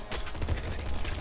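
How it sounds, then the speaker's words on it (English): Shotgun fire in the video game Nuclear Throne, a quick, dense run of loud blasts packed into about a second, harsh and close. "Shotgun."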